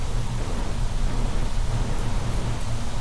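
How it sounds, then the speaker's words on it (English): Rain falls in the video game Planet Crafter as a steady, dense hiss with a low rumble beneath, continuous and fairly loud with no talking. "Oh yay, it's raining!"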